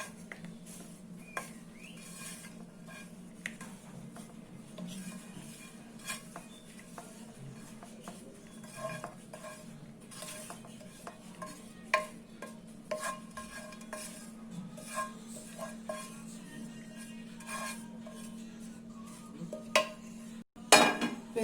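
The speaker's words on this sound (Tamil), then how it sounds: "இப்போ இதெல்லாம் கலந்துக்கலாம்." A spoon stirs roasted cashews, raisins and grated coconut into a flattened-rice and jaggery laddu mix in a pan, giving soft, repeated scrapes and light clinks over a faint low hum.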